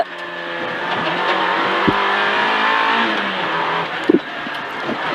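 A rally car on the ES5 Le Clocher Penché special stage of the Rallye du Charlemagne 2022 roars along at speed, a loud, steady engine drone with shifting pitch and brief thumps, heard from inside the car.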